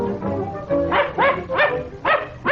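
A dog in an old 1940s radio drama barks in a series of close, loud yaps and woofs, several separate bursts in quick succession with a little background noise between them.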